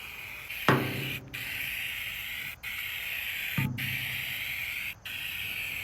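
A spray paint can hisses in long bursts while coating a military generator, with a sharp nozzle click starting two of the sprays and brief gaps between them.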